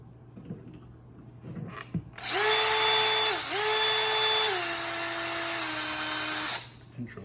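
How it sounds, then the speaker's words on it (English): A power drill fitted with a 1/16 inch bit bores holes in an Aristocraft two-bay covered hopper model. It gives a steady high whine lasting about four seconds with a brief dip in pitch, framed by quiet handling noises. "This is a 1/16 inch drill bit that I'm using to drill these holes"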